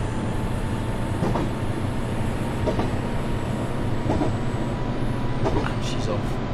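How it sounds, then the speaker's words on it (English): A simulated JR East train in a Japanese cab simulator rolls over points, a steady loud rumbling run with rhythmic clickety-clack wheel beats and faint squeals, while someone talks over it. "See that whole kind of cab sway and the noise over the points and the clickety-click."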